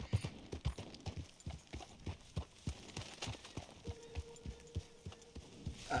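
Horse hooves clip-clop in a steady walking rhythm in Red Dead Redemption 2, close and clear with a faint low tone underneath and no talk.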